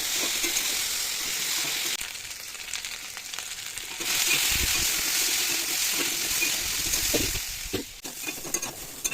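Potatoes fry in oil in a pan with salt, turmeric and green chillies, a loud steady sizzle broken by repeated scraping strokes of a spatula stirring against the pan.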